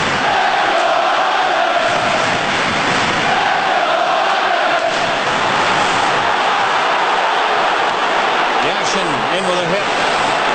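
Playoff hockey crowd roaring at the Islanders' home arena in a 2002 quarter-final game against Toronto, a loud sustained wash of cheering with a commentator talking over it.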